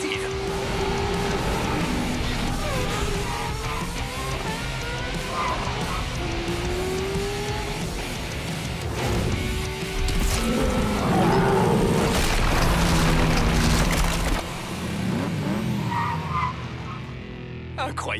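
A Hot Wheels car driven hard through Hot Wheels City, engine revving with repeated tire squeals and skids, loud and near, mixed with other street noise and bursts of activity.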